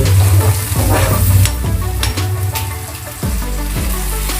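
Masala for mattar butter paneer frying and being stirred in a pan, a loud continuous sizzle broken by repeated scraping strokes of the spoon, close up and with no voices.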